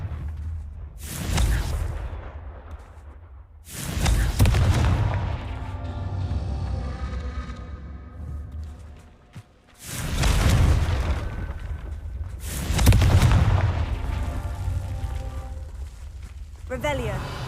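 Confringo fire spell explosions in the Hogwarts Legacy video game: four loud booming blasts, each with a rushing, crackling tail, spaced a few seconds apart over a steady game background.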